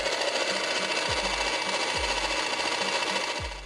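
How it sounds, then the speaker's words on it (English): A Baratza Encore coffee grinder running empty gives a loud, close, steady motor whine with a rhythmic low thumping pulse repeating roughly every second. "This is the machine running empty."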